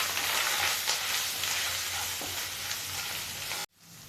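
A spice mixture of cumin, coriander and salt fries and is stirred in a pan, giving a continuous close sizzle with scraping strokes that stops abruptly near the end, with no voices.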